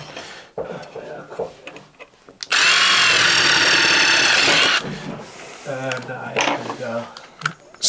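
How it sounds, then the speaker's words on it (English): A power drill bores through an LED light profile in one sustained, loud, high whining burst of about two seconds, with shorter clattering and handling noises before and after. "next stage is to drill through my profile"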